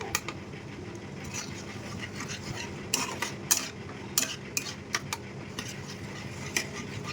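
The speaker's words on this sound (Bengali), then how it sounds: "নাড়তে থাকবো।" Pasta being stirred in a pan for a homemade Italian-style dish, with steady soft scraping and a few sharper utensil clicks against the metal over a low background sizzle.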